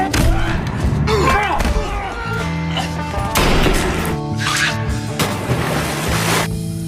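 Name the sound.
fistfight punches in a film scene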